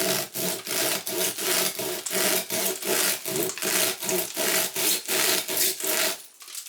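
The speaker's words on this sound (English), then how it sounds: "I can just choose where I want to cut my fibers and just start sawing through" Steady back-and-forth sawing through stiff whisk broom fibers with a bread knife, rhythmic rasping strokes about two per second, loud and close, ending abruptly.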